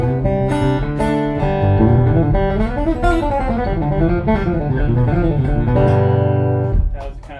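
An electric guitar picks a quick country and bluegrass style run, bright and busy single notes and double stops at close range, ending abruptly after several seconds.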